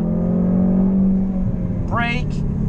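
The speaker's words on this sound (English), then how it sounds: "Now, gradually accelerating on the way out the corner." A 2018 Jaguar F-Type S accelerates out of a corner at Autódromo Internacional do Algarve. Its loud, steady engine drone fills the cabin throughout, and a brief higher chirping sound breaks in near the end.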